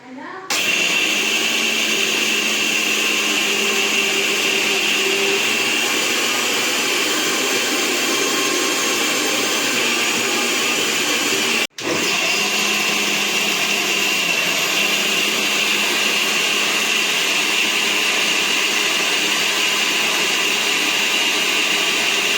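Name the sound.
grinding dosa batter, likely in a mixer grinder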